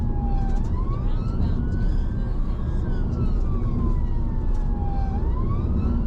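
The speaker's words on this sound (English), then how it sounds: "I do like that siren cadence a lot." Loud, close UK ambulance siren from a Skoda estate responding on an emergency run, its rising and falling wail sweeping continuously over heavy road and engine noise.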